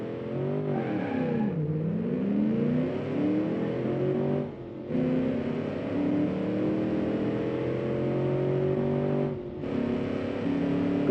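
A naturally aspirated V8 car in the Automation game accelerates hard, its engine rising in pitch through each gear with brief drops at the shifts, loud and continuous without speech.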